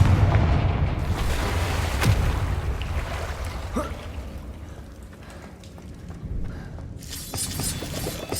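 A Confringo spell goes off in Hogwarts Legacy with a heavy, rumbling burst, followed by crackling debris and a low roar that slowly fade, then a second swell of crackle near the end.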